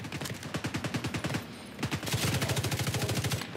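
Rapid automatic gunfire in The Division 2 video game, close and loud, one sustained burst breaking briefly before a second steady burst of evenly spaced shots.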